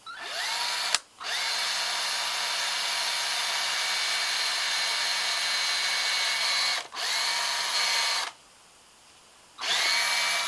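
A power drill whirs loudly in long sustained bursts through wood, stopping briefly a few times and then starting up again.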